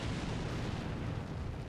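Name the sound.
artillery fire in the video game Combat Mission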